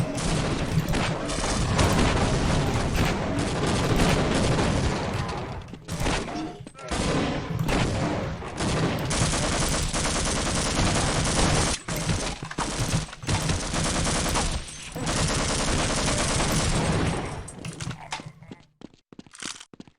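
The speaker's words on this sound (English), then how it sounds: "how many grenades get thrown so quickly?" Dense, sustained video-game gunfire and repeated grenade blasts pour out almost without pause, loud and chaotic, tapering off near the end.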